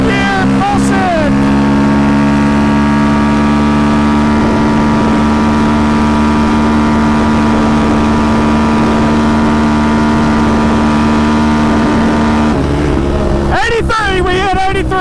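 A Yamaha Raptor ATV's big engine drones loud and steady as it is pushed hard in fourth gear, holding a strained, high-revving tone for most of the run before easing off near the end.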